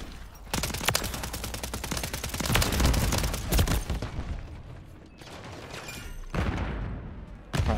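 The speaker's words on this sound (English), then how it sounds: "We're absolutely firing though." WSP 9 submachine gun firing in Call of Duty MW3, with loud rapid automatic bursts in quick succession. There is a short pause midway before the firing resumes.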